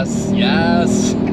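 A front-wheel-drive Volvo V70 T5 of about 400 hp spinning its wheels on the wet Nürburgring, with a loud, close engine note that rises in pitch.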